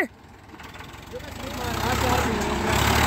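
A tractor engine runs at a tractor harrow competition held in rain, a low rumbling drone that swells and grows louder partway through, with voices in the background.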